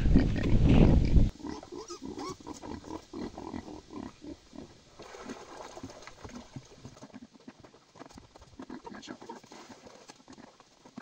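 Pigs on a village farm grunt and snuffle close by. A loud burst comes first, followed by irregular low grunting and rustling that continues throughout.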